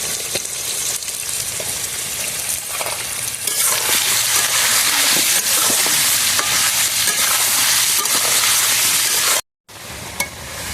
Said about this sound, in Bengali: আলুটা ভাজা হয়ে গেছে, রাখবো।